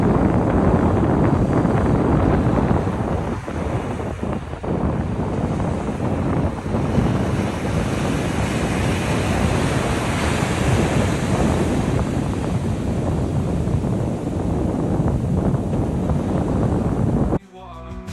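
Ocean surf rolls and breaks continuously, loud and close, with steady wind buffeting the microphone throughout; no voices, and the roar cuts off abruptly near the end.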